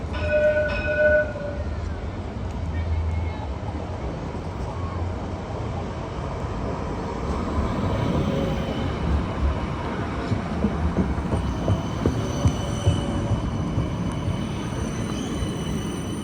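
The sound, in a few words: Parramatta light rail tram vehicle 2165 passing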